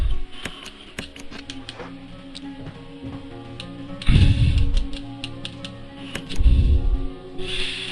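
A typewriter in Resident Evil clacks out a save with an ink ribbon, crisp keystrokes tapping in an irregular run, followed by a couple of low thuds and a carriage-like clunk.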